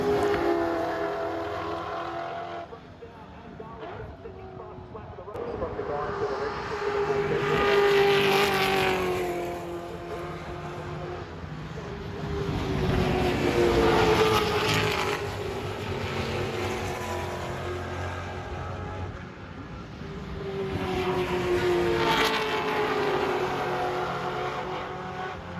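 Vintage race cars from yesteryear circuit racing at Mount Panorama, Bathurst, engines roaring loudly in repeated waves as cars pass close by, with sweeping pitch shifts and sustained revving.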